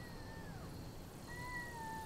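A cat meows faintly twice in a TV drama, thin rising-and-falling calls over a quiet background.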